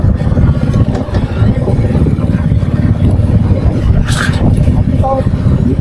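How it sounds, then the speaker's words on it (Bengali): Motorcycle ridden on a mountain road on the Siliguri to Sillery Gaon route in Sikkim, with a continuous close engine drone and road rumble throughout and a brief higher-pitched squeal near the end. "পাহাড়ের উপরে বাইক চলছে দেখি"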